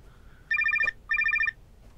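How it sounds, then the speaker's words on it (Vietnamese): An old-style telephone bell rings in two rapid trilling bursts separated by a short pause, loud and close in a quiet room. "Điện thoại."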